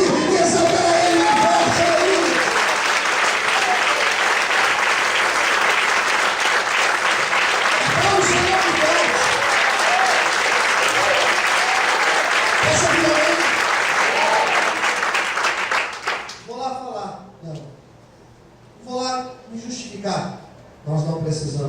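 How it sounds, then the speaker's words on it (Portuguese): A congregation applauding in church, loud sustained clapping from a large crowd with a few shouts mixed in, lasting about sixteen seconds before fading out as a voice speaks alone. "Todos podem aplaudir e exaltar a Ele"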